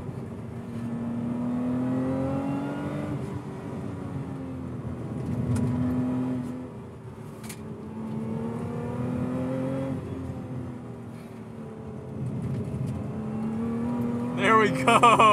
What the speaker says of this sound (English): Beautiful heel toe.